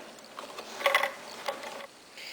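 A sewing machine runs in short mechanical bursts while taking a few back stitches on a fabric baby bib, giving a quick clattering whir, then a pause and a second brief run, close and fairly soft.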